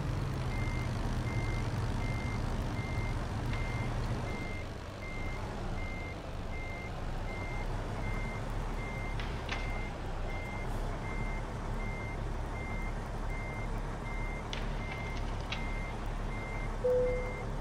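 Repeated reversing beeps from a truck in American Truck Simulator while backing into a parking spot, a steady evenly spaced warning tone over constant engine rumble with a few brief air hisses.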